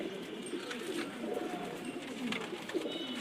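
Racing pigeons, a male and female pair, coo softly in repeated low throaty phrases, fairly quiet and close, with faint chirps and background noise and no talking.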